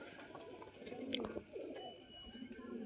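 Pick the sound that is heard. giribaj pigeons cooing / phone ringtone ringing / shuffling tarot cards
giribaj pigeons cooing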